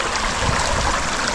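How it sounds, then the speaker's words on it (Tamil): Rainwater runs steadily through channels in agricultural fields at night after a downpour, a continuous close rushing trickle with no talk. "இப்போ தான் மழை பெஞ்சு தண்ணி போயிட்டுருக்குங்க எங்கள் வாரியிலலாம்."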